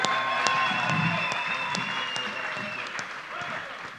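A crowd at a reggae festival applauds for the performers, a sustained wash of clapping and cheers with a few sharp individual claps standing out over background music tones.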